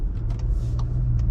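Škoda Kodiaq SportLine facelift with a 1.5 TSI 150 hp petrol engine, heard from inside the cabin as a steady low engine hum with a few faint clicks from the car, no talking.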